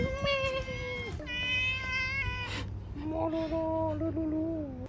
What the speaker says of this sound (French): Oh, il y a un cat.